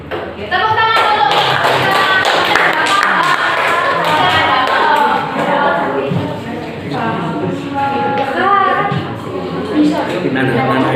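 A classroom of students claps their hands in a dense, steady round of close, loud clapping, with chatter mixed in throughout.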